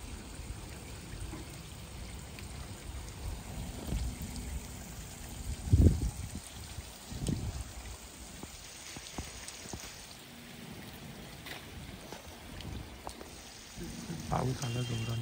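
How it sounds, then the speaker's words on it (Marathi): Heavy outdoor rain makes a steady patter and hiss on the surfaces around, with occasional louder thumps and drips. Voices can be heard under the downpour. "पाऊस आला जोराने,"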